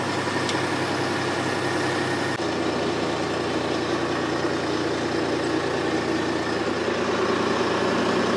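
Old, long-abandoned Michigan wheel loader with a diesel engine that won't idle, running steadily at a loud, rough, constant drone, close up and without pause.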